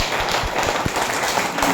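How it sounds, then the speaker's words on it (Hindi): Audience clapping at an RCM business gathering, cheering for a cooking oil: loud, dense applause with scattered sharper claps popping out of a continuous, roomy wash of hands. "एक बार इस तेल के लिए तालियां बजाओ"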